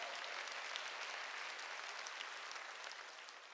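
Congregation at a Wednesday church service clapping steadily, a dense, even wash of applause that holds throughout at moderate loudness with no talk over it.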